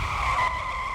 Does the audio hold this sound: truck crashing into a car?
yes